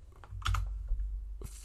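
A few quick keystrokes on a computer keyboard tap close and clear, a short burst of clicks with no talk.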